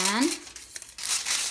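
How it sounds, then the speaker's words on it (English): Aluminium foil is cut and crinkled for a tea-light circuit craft, making a brief, close, bright crackling rustle that fades and then returns, and a voice is heard briefly at the start. "So let's cut another piece of foil."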